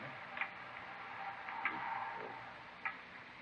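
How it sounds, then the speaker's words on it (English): Loud ticking clock used as a sound effect in a 1950s police radio drama, with a few sharp, evenly spaced ticks standing out over a steady background hiss. "It's a loud clock, ain't it?"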